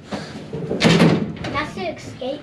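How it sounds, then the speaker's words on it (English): A door at an outback Australian site is pushed shut with a heavy, close thud and rattle, while people talk nearby before and after the slam. "close the door, Quinny."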